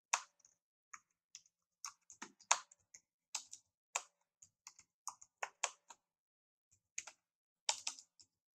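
Keys clatter on a computer keyboard in quick irregular bursts of crisp clicks with brief pauses between words, close and fairly quiet.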